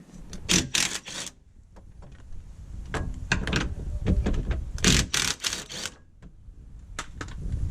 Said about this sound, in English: Loosen the 3 upper strut bolts with a 14mm.